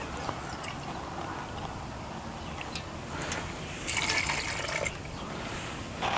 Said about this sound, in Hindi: अब ये पानी, 1 कप पानी, ये जो है ये 1 कप है।